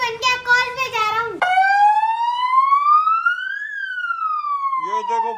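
A police-style siren hooter fitted on a bicycle wails loud and close, rising in one long sweep and then falling, with a voice talking before and after it.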